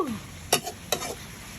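Pounded Thai curry paste of lemongrass, kaffir lime leaves and chili being dry-roasted and stirred in a pan for an eel curry, two quick close scraping strokes over a faint background sizzle.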